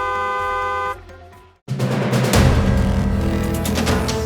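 A vehicle horn sounds as a steady, loud tonal blare for about a second, then after a brief gap a loud, broad roaring burst of noise fills the rest.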